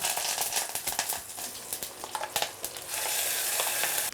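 Mustard seeds and curry leaves tempering in hot oil, a dense continuous sizzle with rapid popping crackles close up, no voices.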